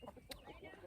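A young hen of a dual-purpose chicken breed clucks softly a few times at close range, with a sharper squawk near the middle, over a busy farmyard background.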